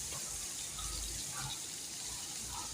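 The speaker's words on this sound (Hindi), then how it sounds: "इस तरह पानी डाल के सामने उतार लेना" Water runs and splashes steadily into a pot of chicken, carrot and apple curry, a continuous gushing pour with no talking.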